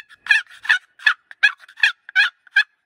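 Wooden box turkey call scraped with its paddle across the top of the sound chamber, giving a run of about eight raspy, yelping clucks in an even rhythm, close and clear with no talk.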